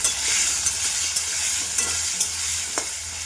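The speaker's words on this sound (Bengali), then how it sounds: "আলুটা একটু হলুদ আর একটু নুন দিলাম, দিয়ে আলুটা ভেজে নেব।" Potatoes seasoned with turmeric and salt frying in a pan, a steady close sizzle with soft stirring scrapes and occasional pops throughout, no voices.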